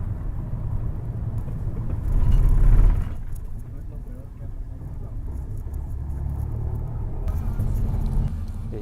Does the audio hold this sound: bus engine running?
yes